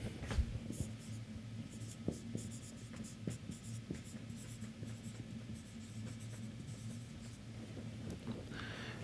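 Chalk or pen scratching and tapping on a board during an engineering lecture on state variables, a steady run of short strokes and taps at moderate distance over low room hum, with no talking.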